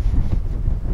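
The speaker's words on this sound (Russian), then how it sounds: "потому что очень сильный ветер" Strong wind buffets the microphone in a steady low rumble, loud and close, with gusty fluctuations throughout.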